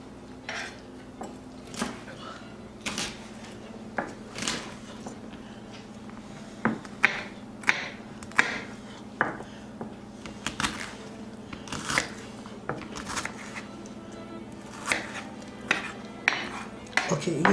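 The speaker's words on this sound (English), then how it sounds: "making baccala, you're going to do a lot of cutting" A knife chops salt cod (baccala) into smaller pieces on a cutting board at home, giving close, sharp clacks in an uneven rhythm of about one or two per second, with no talking.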